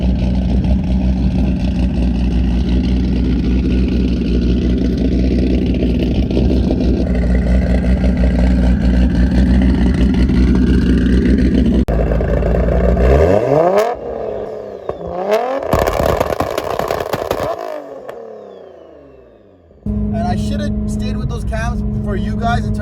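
An Infiniti G35 with aftermarket cams idling with a deep, lumpy rumble for several seconds, then the sound cuts and shifts through louder engine passages and revving before settling again.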